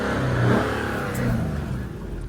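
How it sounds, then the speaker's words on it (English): Infiniti Q50 engine idling outdoors with a low, steady exhaust rumble that swells slightly, moderately close and without speech. "You got a little exhaust note."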